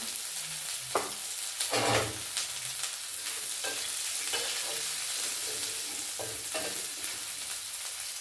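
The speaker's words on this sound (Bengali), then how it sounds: "পেঁয়াজটা ভাজা হবে" A steady, moderate sizzle of chopped onions frying in a pan with five-spice seeds, with occasional soft scrapes and clunks of stirring, and no talking.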